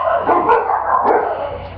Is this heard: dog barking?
yes